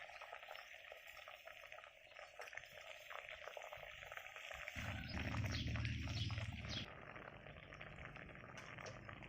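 Palm fruit simmers in a pot on a gas stove for a Thai dessert, giving a steady bubbling, frothy boil close by with no talk, the rolling surge growing louder partway through before easing back.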